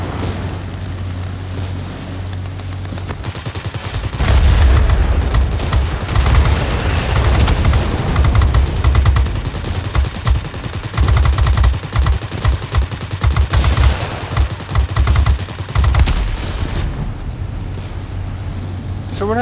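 Aircraft machine guns fire in sustained rattling bursts over a steady engine drone during a World of Warplanes air battle, loud and dense for most of the stretch, with no voices.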